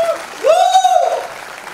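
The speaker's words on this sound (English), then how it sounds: "a huge round of applause, come on," An audience at a women's empowerment awards show applauds for an honoree while a voice lets out a rising, drawn-out whooping cheer over the clapping.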